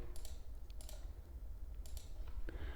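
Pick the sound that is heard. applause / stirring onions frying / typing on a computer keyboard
typing on a computer keyboard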